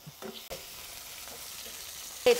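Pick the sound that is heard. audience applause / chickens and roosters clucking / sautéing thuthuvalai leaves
sautéing thuthuvalai leaves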